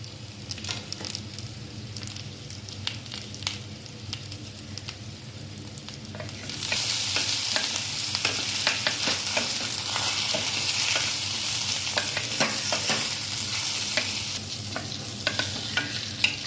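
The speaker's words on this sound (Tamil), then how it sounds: "இந்த சக்கரவள்ளி கிழங்கோடு அந்த தேங்காய் எண்ணெயை வறுக்கும் பொழுது" Sweet potato frying in coconut oil sizzles steadily up close, with scraping stirs and faint ticks, and the hiss swells noticeably louder and brighter partway through before holding at a constant crackling roar.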